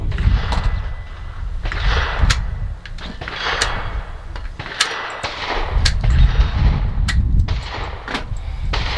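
PWS UXR rifle fired on a range, several sharp reports spaced a second or two apart over a steady outdoor background rumble, no talking.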